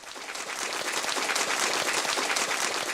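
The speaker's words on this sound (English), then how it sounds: "Let's give a round of applause to my first stream." A round of applause, dense close-up clapping that holds steady for a few seconds with no talk over it.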